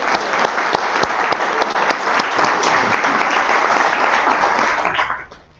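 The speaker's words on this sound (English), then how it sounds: "Another round of applause for her." A loud, sustained round of applause from a crowd, steady for about five seconds before quickly fading out.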